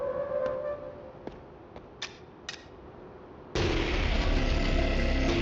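Pistol gunfire in the video game Paperhead: four sharp, evenly spaced shots, then a sudden loud, sustained roar of noise that fills the rest of the clip.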